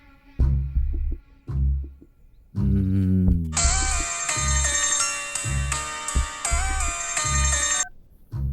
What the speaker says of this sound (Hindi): डॉन का फोन है।